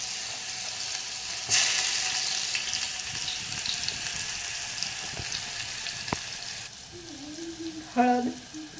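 Onion and whole spices hit hot tempering oil with turmeric and salt, bursting into a loud sizzle that settles into a steady crackle, followed by a brief clatter near the end.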